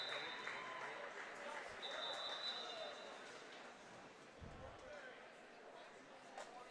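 Crowd noise at an indoor prep league track meet, a broad steady wash of distant cheering and applause that fades slightly, with a faint tone and a couple of thumps underneath.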